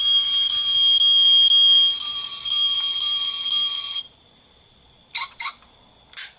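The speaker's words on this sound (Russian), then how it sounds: "Сигнализация сначала включилась, потом пик-пик выключилась." The electronic alarm of a toy Mercedes-Benz G65 blares a steady tone for about four seconds, then cuts off, followed by a few short chirping beeps.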